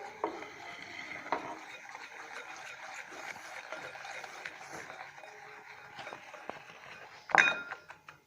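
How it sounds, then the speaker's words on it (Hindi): Icing sugar being stirred in a bowl for zeera biscuits, with quiet scraping and clinking of a utensil against the bowl and a sharper knock near the end; no talking. "इसको हम मिक्स करेंगे अच्छी तरह।"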